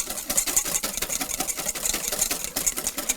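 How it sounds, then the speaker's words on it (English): Egg yolks whisked by hand in a bowl for hollandaise sauce, a fast steady run of light metallic clicks and swishes repeating close up without a break. "we're gonna whisk our egg yolks until nice and frothy,"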